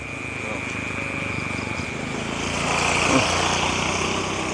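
A motorcycle engine drones steadily as the bike passes nearby, its buzzing hum swelling louder toward the middle and then easing slightly, with a murmur of nearby voices in the background.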